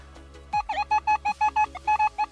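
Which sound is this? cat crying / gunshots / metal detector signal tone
metal detector signal tone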